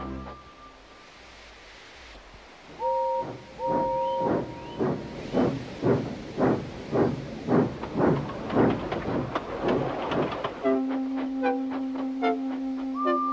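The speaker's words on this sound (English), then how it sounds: "Gordon came clanking past, hissing rudely" A steam engine chuffs in rhythmic bursts of hiss, with whistle-like tones sounding near the start and a steady hoot toward the end.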